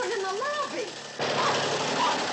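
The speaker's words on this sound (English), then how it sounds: "That sounds like Willie's motorbike." A voice speaks briefly, then a motorbike engine running inside a hotel lobby cuts in as a steady, loud, rough roar that fills the rest of the moment.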